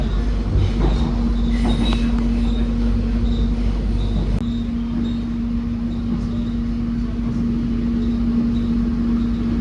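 Inside the airport rail link train from Manggarai to Soekarno-Hatta airport, a loud steady rumble of wheels on track with a constant drone and faint high squeals throughout.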